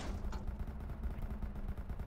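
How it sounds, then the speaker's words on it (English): Distant gunfire rumbles and pops through an ARMA military operation, with muffled shots and low booms rolling under a steady background and no voices. "it looks like they're shooting from the northeast"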